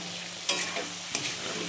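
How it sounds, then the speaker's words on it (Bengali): A spiced mixture with chilli powder and salt stir-fries in oil in a pan, a soft, steady sizzle broken by two quick scraping stirs of a spoon. "ভালো করে কষিয়ে নিতে হবে"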